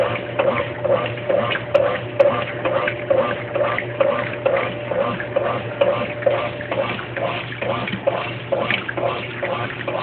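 A Brastemp Baby Mondial washing machine churns a load of whites in water, its agitator sloshing in a steady back-and-forth rhythm over a constant motor hum, close and moderately loud.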